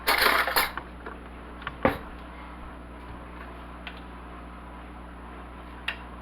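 A spoon and cutlery handled in a home kitchen while making Salisbury steak, a cluster of clinks and scrapes at the start, then a few isolated metallic taps against a quiet background.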